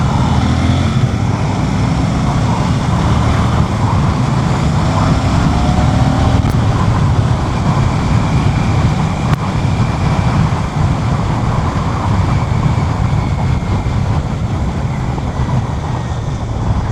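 Royal Enfield Classic 650 on a demo-day test ride, its engine droning loud and continuous under heavy wind rush, revs rising and holding as the bike pulls along.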